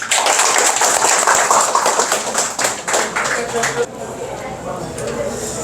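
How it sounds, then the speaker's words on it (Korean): Applause from members of a Gyeongin alumni association welcoming their chairman at an autumn gathering, a dense burst of clapping that thins and fades midway, with speech mixed in. "박수로 환영해 주십시오"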